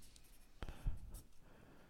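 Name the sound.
writing down notes on paper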